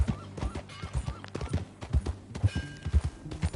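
Horse hooves clip-clop on the ground in the PS4 game Red Dead Redemption 2, a brisk, even rhythm of close, distinct hoof beats.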